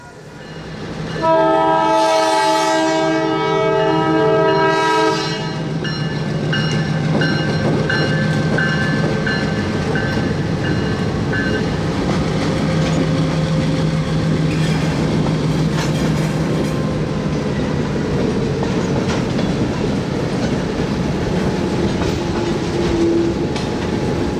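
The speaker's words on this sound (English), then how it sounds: "the sound of cicadas and cars passing was broken by the sound of an approaching train" A train horn blares in long harmonic blasts, then the steady rumble and clatter of a passing St. Marys Railroad train continues close by, loud and unbroken, over cicadas and passing cars.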